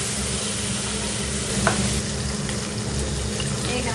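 Koi fish fry in a pan, a constant close sizzle and crackle over a low background hum, with one brief sharp clink partway through and no talk.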